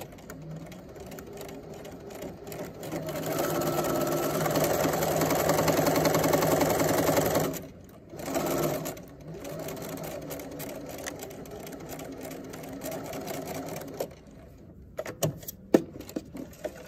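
A sewing machine runs steadily while stitching a 5/8 inch seam allowance, its motor humming continuously, briefly pausing twice, then ending with a few small clicks.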